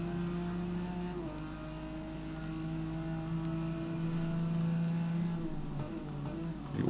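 Race car in the GTR2 racing game, a steady droning engine tone holding pitch with a slight shift partway through, continuous and moderately loud with no talking.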